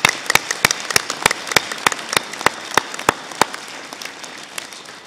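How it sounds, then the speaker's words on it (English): Sharp, sparse handclaps crack out at a graduation ceremony, a dozen or so distinct loud claps spaced irregularly over a faint background hum, more like a few nearby people clapping than a full-house ovation. "I hope the graduates today will join with me in a big round of applause for all your friends, relatives who have helped"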